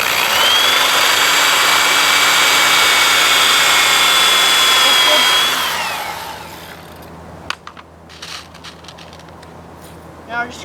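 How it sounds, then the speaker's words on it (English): A power drill whines steadily while driving a screw to secure a wooden box, running loud and close for several seconds before winding down, followed by a few small clicks and knocks. "Now we're just screwing in our last screw here before this step is completed."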